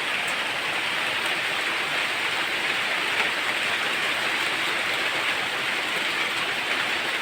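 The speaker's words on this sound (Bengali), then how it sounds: "বৃষ্টি ভরপুর বৃষ্টি হতেছে।" Heavy rain pours down steadily after a spell of intense heat, a dense, continuous hiss of drops drumming on surfaces close by for the whole stretch, with no voices.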